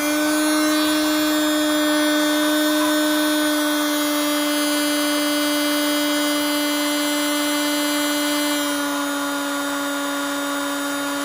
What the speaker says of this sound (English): Get my trusty heat gun.